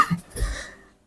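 A single short cough, close by, with a brief throaty burst followed by quiet.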